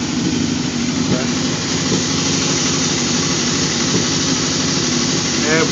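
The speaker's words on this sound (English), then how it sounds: "Bike turns on." A 2004 Suzuki GSX-R 1000 motorcycle engine idles loudly and steadily up close, with a constant low rumble throughout.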